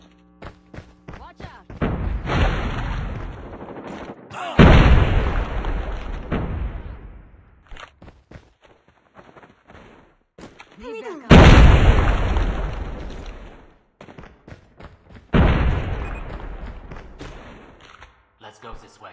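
Grenade blasts in the Call of Duty Mobile shooter, several heavy booming bursts a few seconds apart, each decaying with a long rumbling tail, loud and close, with game voice callouts around them.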